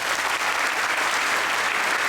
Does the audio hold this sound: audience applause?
yes